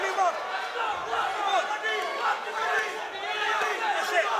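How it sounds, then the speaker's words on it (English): Boxing crowd at a heavyweight title fight making a loud, dense roar of overlapping shouts and cheers that holds steady throughout. "A lot of noise from the crowd."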